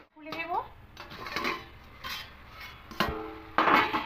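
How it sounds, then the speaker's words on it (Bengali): A metal plate clatters and scrapes as it is set over a cooking pan of Bengali pui shak greens, several sharp close clinks scattered across the moment, with someone talking in between. "এবার একটা থালা ঢাকা দিয়ে পাঁচ মিনিট রেখে"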